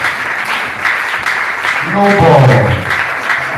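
Church congregation clapping hands, a dense, loud wash of applause filling the room throughout, with a voice speaking over it.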